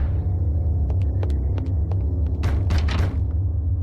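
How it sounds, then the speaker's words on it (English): Knocking at a door in the horror video game Eternal Darkness: a string of sharp raps, then a denser cluster of heavier knocks, sitting over a constant loud low rumble and hum, with no voices. "Who's knocking? Who's there?"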